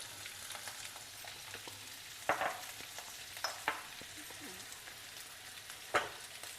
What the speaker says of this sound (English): Now allow it to roast over a low flame.